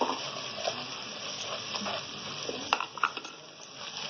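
Spicy masala liver (kaleji) fries in a pan, giving a close, soft sizzle with scattered crackles and the scrape of stirring, fairly quiet throughout.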